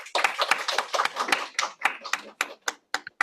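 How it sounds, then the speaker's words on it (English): A small group claps briefly, scattered hand claps thinning out over a few seconds, close and fairly loud. "Give a round of applause for him."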